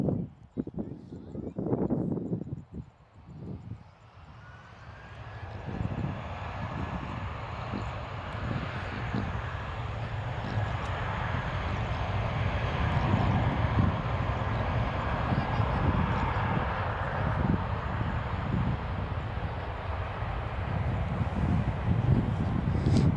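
Airbus A320 airliner, formerly flown by Jetstar Japan, at Gold Coast Airport: a steady, broad jet engine roar building over the clip, with a faint high whine, heard from some distance, with a few brief bumps at the start.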